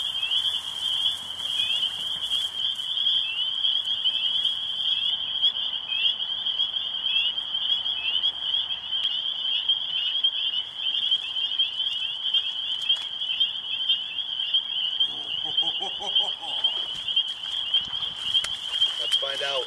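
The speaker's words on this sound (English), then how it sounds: "I'm pretty convinced wood frog right here." Wood frogs call in a dense, continuous chorus of rapid pulsing croaks, loud and unbroken, with a voice briefly speaking nearby toward the end.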